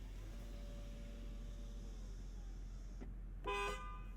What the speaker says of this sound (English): And let's test out that horn.